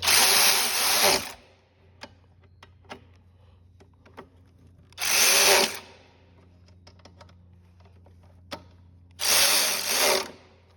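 A power tool tightens carburetor bolts on a Briggs and Stratton 500 series single-cylinder engine, whirring in three short, loud bursts separated by quiet pauses with small clicks and taps.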